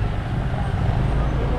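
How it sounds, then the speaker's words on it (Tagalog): A three-wheeled motorcycle with a sidecar rumbles along a rough, potholed road with a steady, loud engine drone and road noise, with riders talking over it. "Parang first time ko sumakay ng motor na tatlo"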